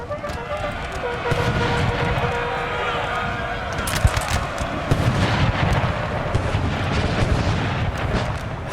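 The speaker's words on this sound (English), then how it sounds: "Howitzers pounding the guards here." Howitzer artillery pounds in a Napoleonic-era battle video game, with repeated booming shots and blasts over a dense, continuous roar of combat noise.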